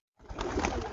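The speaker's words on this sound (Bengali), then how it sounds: "এই কবুতরটার পুরো ভিউটা একটু দেখাই" A golden Pakistani pigeon gives a short, close, low coo lasting under a second.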